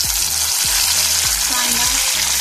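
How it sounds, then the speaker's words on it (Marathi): Green chillies and whole garam masala spices sizzling in hot oil for egg biryani, a loud close hiss with repeated scraping stirs of a spoon in the pan. "आता मिरची तडतडली"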